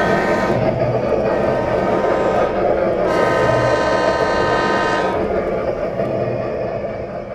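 A train rumbles steadily and loudly with a rolling rail drone and a sustained horn-like tone swelling twice, fading slightly at the end, used as an effect in a Bengali audio ghost story.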